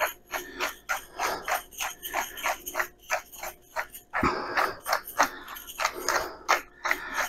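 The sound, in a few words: grinding four-peppercorn mix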